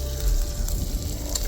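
Bacon sizzles in a pan on a camp stove during a canal canoe trip, a steady crackling hiss with a few sharper pops, fairly close.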